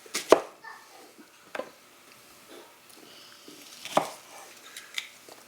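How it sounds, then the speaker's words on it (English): A knife chops onions on a board, a few sparse, sharp thuds spaced irregularly with quiet handling noise between, close and fairly faint, with no talking. "So there we go, the onions are nice and chopped as well."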